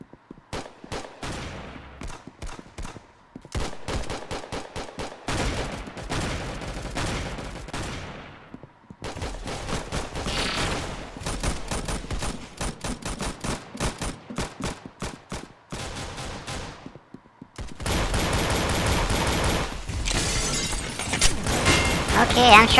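Rapid gunfire from Roblox Arsenal, dense bursts of sharp shots in long strings broken by brief pauses, growing heavier and louder toward the end, with a voice talking underneath.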